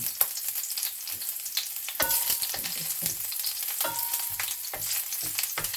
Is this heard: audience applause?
no